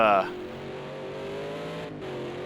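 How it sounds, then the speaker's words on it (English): Race car engines drone and whine in Project CARS 2 during a 1998 FIA GT Championship race at the Nürburgring GP circuit, a steady rising engine note throughout with a commentator talking over it. "The absolute noise of all of these cars."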